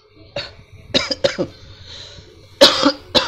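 Several sharp coughs come in quick clusters, close and fairly loud, separated by brief quiet gaps.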